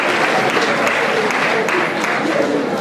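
An audience at a university arts award ceremony applauds a prize winner with loud, dense clapping that holds steady throughout, with no talk over it.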